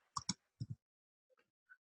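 A computer mouse clicks while a web app is used, two quick pairs of sharp, close clicks followed by a couple of fainter ticks.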